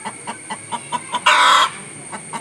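A rooster clucks in a quick, regular series of short calls nearby, then lets out one loud, drawn-out crow before the clucking resumes.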